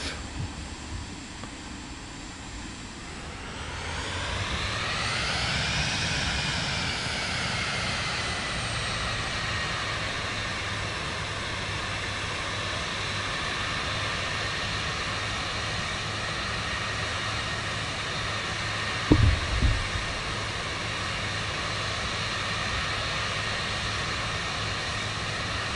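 A Vision Jet G2 taxis in Microsoft Flight Simulator 2024, its jet engine whine climbing in pitch and then holding a steady drone, with a brief low thud partway through.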